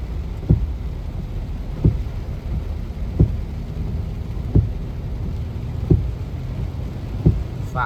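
Rain falls steadily during a storm on a workday morning in Samut Prakan, a constant broadband hiss with regular dull thumps recurring every second or so.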